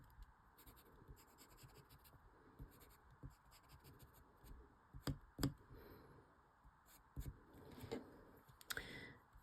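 Pencil scratching on paper while drawing, tracing around and inside petal shapes of a tangle pattern, with soft close strokes in irregular bursts and a few sharper scrapes, no talking.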